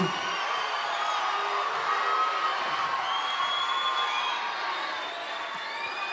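Studio audience applauding and cheering at a Georgian televised singing contest, a dense steady wash of clapping with whoops and shouts held at an even loud level throughout.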